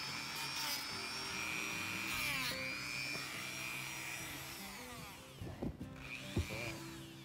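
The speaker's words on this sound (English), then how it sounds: "The Dremel's not at all to take down any length. It's just to round it out so he doesn't have any sharp edges." A Dremel rotary tool grinds down the horn scurs on a Boer buck goat, a high whining buzz that rises and dips as pressure changes, with some knocks and shuffling near the end.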